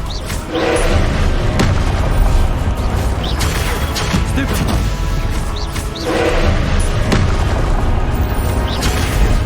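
Repeated Confringo explosive spell blasts in the Hogwarts Legacy video game, loud booming bursts landing roughly every few seconds over a constant dense layer of game effects and music, with no talking.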